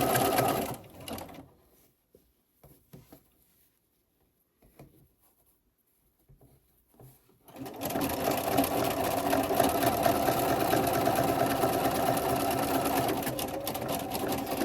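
Close sewing machine zigzag stitching through several tee-shirt layers, a brief whir first, then quiet handling and small clicks, then a long steady mechanical hum and rapid chatter through the rest.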